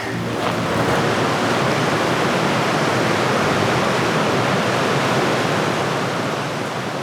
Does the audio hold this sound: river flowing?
yes